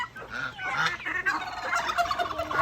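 Several turkeys gobble and chatter together nearby in a continuous, overlapping flock noise.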